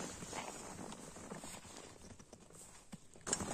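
A horse walks, its hooves clip-clopping in a quick irregular rhythm of soft thuds, faint and a little distant against low background noise.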